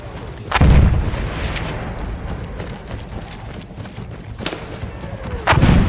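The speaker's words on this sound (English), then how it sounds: "Oh, so there is a mortar right there." Mortar rounds in the video game Battlefield 1 land as heavy booming blasts, two or three spread over several seconds, with sharp high cracks and deep thuds, loud and close above a low battlefield rumble.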